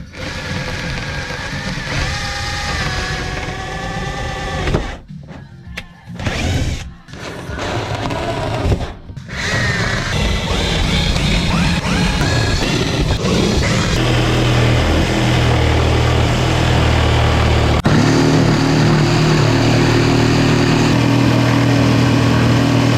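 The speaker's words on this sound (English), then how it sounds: "I'm going to cut it out with a jigsaw and make a big hole in the new worktop I've just put in." A jigsaw cuts a hole through a new Ikea kitchen worktop with a steady, buzzing motor drone. A few short pauses break the cutting early on, then it runs continuously and close by.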